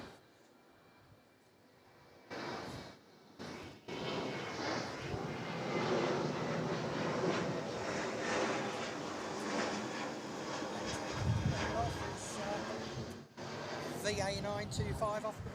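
An airliner approaches to land at Sydney Airport, its engine roar swelling loud and broad for most of the stretch, with brief dips and a rushing, rumbling passage; wind buffets the nearby outdoor spot.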